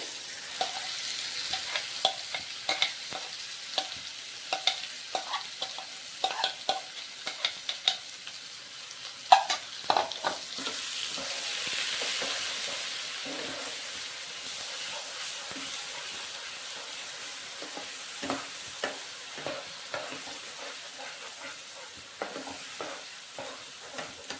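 Masala sizzles in hot oil for a crab curry while being stirred, a steady soft frying hiss with frequent scraping and clinking stir strokes, close and fairly quiet with no talking.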